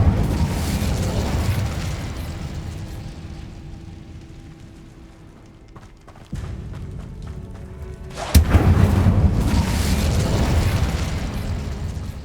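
An Incendio fire spell cast in the Hogwarts Legacy video game bursts out suddenly and loudly as a broad whooshing blast partway through, over a steady low game ambience.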